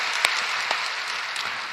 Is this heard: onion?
no